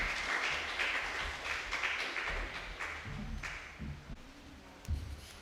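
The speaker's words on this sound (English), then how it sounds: "Give a round of applause as she comes to the mic." Applause from an audience at a police youth club awards ceremony, a steady spread of many hands clapping at moderate distance for several seconds, thinning slightly toward the end.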